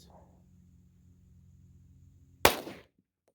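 A single sharp gunshot from a pistol chambered in .357 SIG cracks loudly and close after a quiet stretch, then decays quickly into a short echo.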